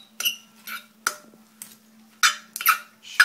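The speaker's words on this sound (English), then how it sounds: "Shred it apart like so." Cooked pulled pork is shredded in a pot with utensils, giving sharp metallic scrapes and clinks at irregular intervals, close up, over a steady low hum.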